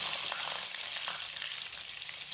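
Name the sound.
sun-dried Nile tilapia frying in oil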